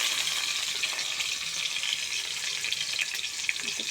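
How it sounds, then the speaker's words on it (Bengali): Onions frying in oil with panch phoron while cooking Bengali talkuchi greens, a steady close hiss and sizzle running throughout with faint stirring clicks, no voices. "পাঁচফোড়ন দেওয়া হয়ে গেলে পেঁয়াজ দিয়ে দিতে হবে।"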